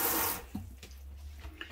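Water gushes from the bathroom tap of a 2014 Carado Capron caravan in a loud, hissing rush that cuts off abruptly after a fraction of a second, leaving faint room noise.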